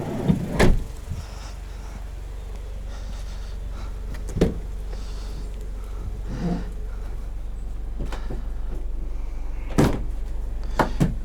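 Rear cargo doors on a 2021 Ram ProMaster City Tradesman cargo van swing open, with several sharp clunks and latch clicks spaced apart over a steady low hum, close by and without talk.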